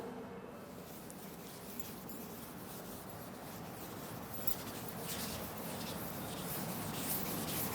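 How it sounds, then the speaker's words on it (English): A board is being rubbed clean of writing, a steady faint scrubbing and rubbing that continues without pause, growing slightly louder toward the end, with no talking. "this side I just want to rub out and write somewhere else"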